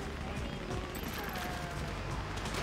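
Gunfire in Grand Theft Auto V, a dense chaotic stretch of rapid shots and bursts blended into loud, continuous game noise with a faint electronic tone, no clear gaps between the shots.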